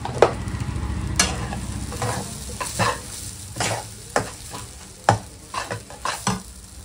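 A filling frying in a pan with a roasted spice mix of cumin, coriander and fennel, stirred with irregular scraping knocks over a steady background sizzle, close and moderately loud, no voices.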